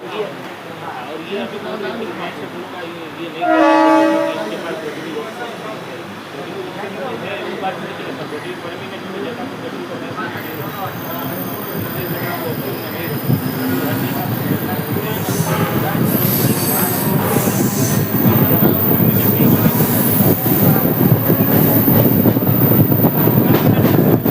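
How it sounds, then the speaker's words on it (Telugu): A Mumbai local train rolls into Dockyard station, wheels squealing loudly and steadily over a constant rumble, rising in intensity toward the end. "ట్రైన్స్ కూడా వస్తూనే ఉన్నాయి"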